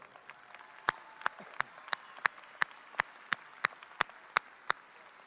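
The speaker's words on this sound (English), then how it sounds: "Board members, please stand so that we can applaud you for all of your support." Slow, sparse claps ring out one at a time at a high school graduation ceremony, about a dozen sharp, evenly spaced hits over a faint room hiss, more like a lone clapper than a full crowd.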